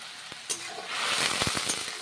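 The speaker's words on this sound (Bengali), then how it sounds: "আদাটা বেশ ভালো করে ভেজে নিচ্ছি, কাঁচা গন্ধ থাকবে না, ভেজে নিচ্ছি।" Ground ginger and a dried red chili fry in a pan for chana dal, a close sizzle that swells after a brief clink, with stirring scrapes and small pops.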